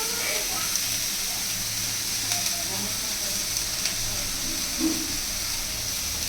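Capsicum fries in a pan for a momo filling, a dense, even sizzle and hiss held at close range throughout, with faint scraping stirs now and then and no voices.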